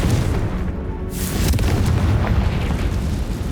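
A Confringo spell explosion in Hogwarts Legacy on Nintendo Switch, heard as a loud, close, deep boom with a rumbling blast that carries on throughout, with no voices over it.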